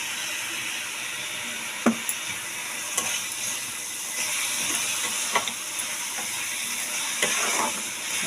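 Note greens fry with garlic in mustard oil in a pan: a steady, close hiss and sizzle runs throughout, broken by occasional faint clicks of stirring.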